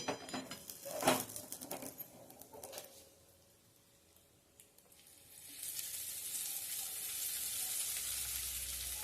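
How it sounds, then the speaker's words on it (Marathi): Hot tempering with asafoetida and red chilli poured onto white chutney, a few sharp clattering spatters at first, then a steady soft hiss of sizzling oil that swells and holds to the end. "आता ही फोडणी मी ह्या चटणीवर घालते."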